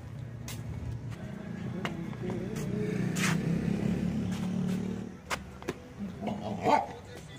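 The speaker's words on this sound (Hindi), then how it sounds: "हमको देख के भौंक रही" A dog barks a few times amid steady background noise and low rumble, with short sharp yips standing out near the end.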